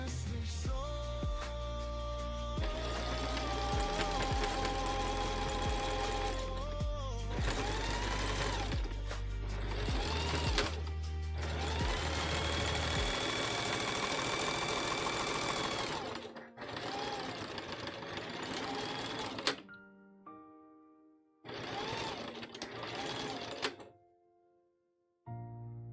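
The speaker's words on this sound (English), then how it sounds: "This is an interesting shape to try and sew into a bowl." A sewing machine stitches rope into a bowl shape in loud, steady whirring runs broken by short pauses and repositioning.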